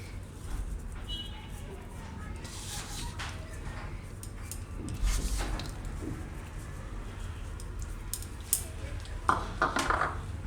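Spoon scraping and clinking in a pan while jaggery is stirred into a hot mohanthal mixture, soft intermittent metallic taps and scrapes over low kitchen background, with someone talking throughout.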